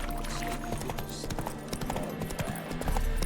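A horse's hooves clip-clop in a quick, even rhythm in The Witcher 3, close and clear under a game soundtrack, with brief speech alongside.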